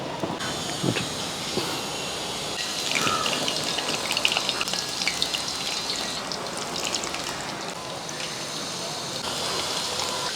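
Batter-dipped onion rings in a flour coating frying in hot oil, a steady soft crackle and sizzle with scattered pops, fairly quiet and continuous throughout.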